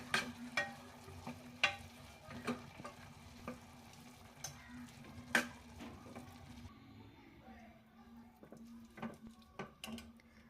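Carrot halwa being stirred in a pan after cardamom powder and homemade khoa go in, with a soft sizzle and close scraping spoon knocks in an uneven rhythm, no talk.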